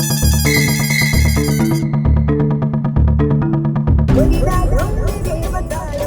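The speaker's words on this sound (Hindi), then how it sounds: "ऊपर तू जल्दी से जेठिया को फोन लगा के पूछ कहाँ है।" Phone ringtone for an incoming call: a loud electronic melody that repeats in short musical phrases, then cuts off into a busy mix of other sounds and voices.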